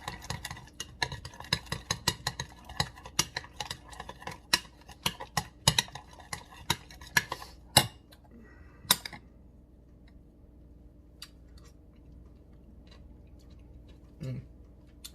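Crab cake mixture with stone ground mustard being stirred in a bowl, a quick run of rhythmic scraping clicks that thins out into sparse taps and near silence toward the end.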